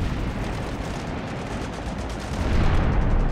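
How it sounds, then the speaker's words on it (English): Warship anti-aircraft guns opening fire on attacking dive bombers, a dense continuous rattle of rapid gunfire that grows louder toward the end. "He opens fire."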